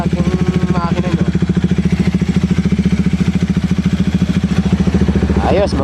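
A Bajaj Dominar motorcycle engine runs steadily at idle, with a close, even, throbbing pulse throughout and a faint voice partly over it.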